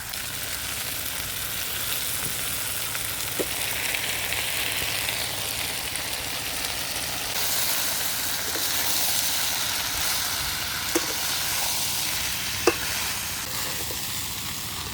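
Rice, soybeans and spices are stirred together in a frying pan for soybean pulao, with a continuous close sizzle under occasional soft scrapes and clinks of the spoon against the pan, steady throughout.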